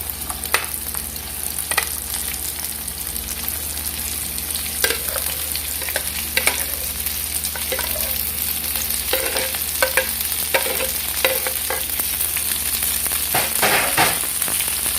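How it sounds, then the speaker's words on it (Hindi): Okra (lady finger) being stirred as it fries in a pan, with a steady loud sizzle throughout and repeated scraping stirs of the spoon against the pan. "इसको अच्छी तरह से मिक्स कर लेंगे हम।"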